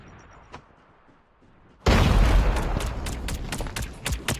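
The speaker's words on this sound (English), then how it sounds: "Grenade." A grenade blast in the mobile shooter game Call of Duty Mobile, a sudden loud boom after a quiet stretch, followed by rumbling debris and sharp crackling impacts.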